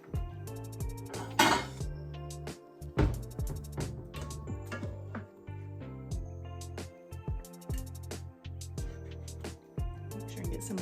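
Dishes, pans and cutlery clink and scrape repeatedly while French onion skillet chicken with onions and sweet potatoes is served onto plates, close and lively, with a brief louder clatter early on.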